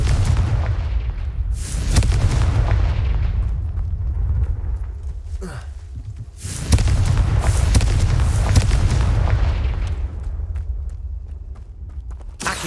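Confringo spells burst into explosions in the Hogwarts Legacy video game: two heavy, booming blasts, each rolling into a long rumbling decay, with quieter action sounds between them.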